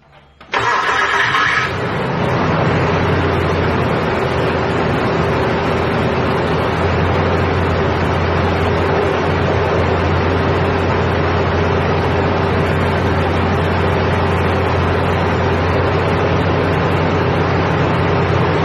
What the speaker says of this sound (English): let's take a startup of the vehicle and listen for any noise